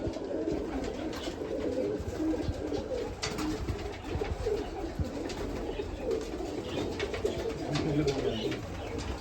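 Several pigeons kept indoors in a bird shop coo in soft, repeated low calls that overlap continuously at close range, with faint rustling and background noise.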